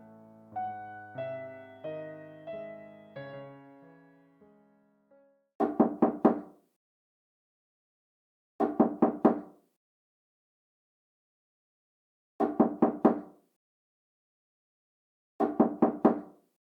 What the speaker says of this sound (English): I've been standing here knocking. Nobody's opening the door.